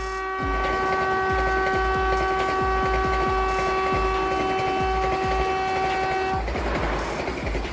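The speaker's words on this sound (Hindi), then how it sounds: "वंदे भारत एक्सप्रेस वर्तमान में भारत की सबसे तेज यात्री ट्रेन है" Vande Bharat Express, India's fastest passenger train, sounds a long steady horn over a continuous rumble of wheels on rail, with rhythmic track clatter throughout and the horn cutting off near the end as the roar carries on.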